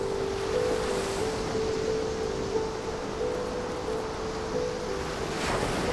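Ocean surf washes steadily against a shore by night under a full moon, a continuous broad roar with gentle swells and a thin steady tone running beneath it, no voices.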